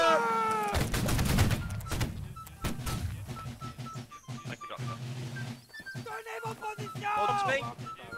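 Muskets fired by a line infantry formation during a line battle event in Holdfast: Nation At War crack out in a ragged volley, followed by scattered single shots, with shouted voices in between.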